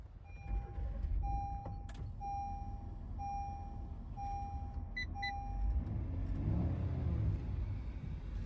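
A 2023 Honda Odyssey Elite minivan cabin with steady chimes and a low rumbling hum as the engine starts, the rumble swelling toward the end, heard from inside the vehicle.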